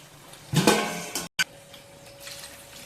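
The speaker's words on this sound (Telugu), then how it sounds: "వాటర్ పోసేసుకుందాం." Water poured into a pan of chicken curry during cooking, a short splashing pour with a clink of the vessel, followed by quieter simmering sounds.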